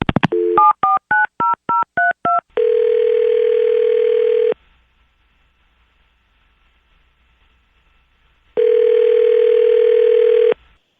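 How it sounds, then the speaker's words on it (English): Phone call being placed: a quick run of about ten touch-tone dialing beeps, followed by two long ringback tones separated by silence, loud and clean with no talking. "make the phone call, hope he answers"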